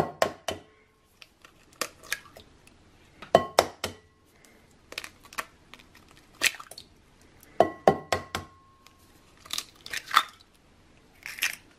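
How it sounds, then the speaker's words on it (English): Eggs cracked one after another into a bowl while making a low-carb keto pumpkin pie, with sharp close cracks, soft wet drips and squishes in irregular bursts, no talking. "We're going to start by cracking our eggs into the bowl."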